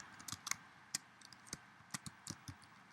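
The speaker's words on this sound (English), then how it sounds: "I'm just going to type up here" Typing on a computer keyboard to add text in iMovie, with quiet, irregular key clicks in short bursts and no voices.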